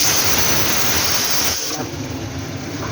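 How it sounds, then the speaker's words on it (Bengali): Pot of potatoes boiling on the stove, giving off a steady loud hiss of steam that drops in level partway through but keeps going as a softer rush, with no talk. "এদিকে আমার আলু সেদ্ধ হচ্ছে"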